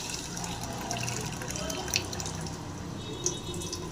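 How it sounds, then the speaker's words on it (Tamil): Water being poured and stirred while straining kuppaimeni herb soup, a steady soft liquid wash with faint drips and a couple of small bright clinks, fairly close and continuous throughout. "தண்ணி கொஞ்சம் ஊற்றி கலக்கிட்டு வடிகட்ட போகிறேன்"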